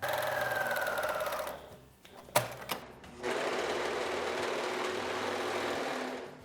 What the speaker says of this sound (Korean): 미디를 여기서부터 여기까지 1cm 시접으로 박아주신 다음에 오버룩으로 마무리를 해주시면 됩니다.